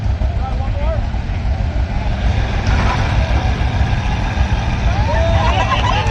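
A tractor engine strains hard during a tractor pull competition, a loud low rumbling roar that holds steady and swells a little midway, with crowd voices shouting over it throughout.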